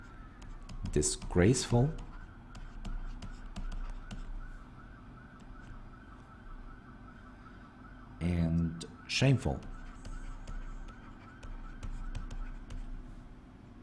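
An emergency vehicle siren wails faintly from outside, rising and falling in the background while a person speaks nearby, with a quieter stretch in between.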